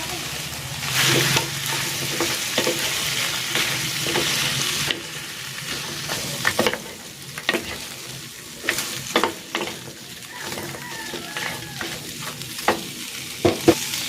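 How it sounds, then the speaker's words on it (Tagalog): Pork ribs frying in a pan with a steady sizzle and repeated sharp clatters of a utensil stirring and scraping, loud at first and then easing off. "Ilalagay ko na dito yung pork ribs."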